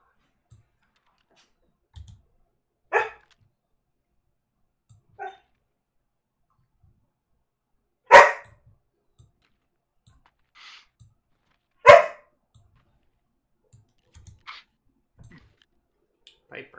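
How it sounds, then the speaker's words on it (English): Puppies barking in a quiet room, a few sharp, loud yaps spaced several seconds apart with faint clicks and small knocks in between. "Or just the puppies being loud."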